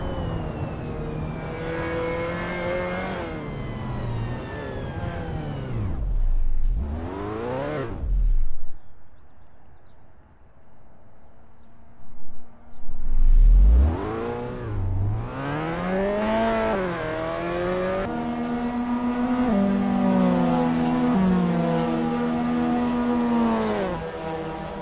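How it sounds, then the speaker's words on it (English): A Mazda MX5 Cup race car lapping Silverstone National in Assetto Corsa, its engine note climbing steadily through the gears, dropping on downshifts and braking, then revving hard again, loud and continuous with no voices. "Greg Sabo is getting to grips with the Mazda MX5 Cup in this practice session."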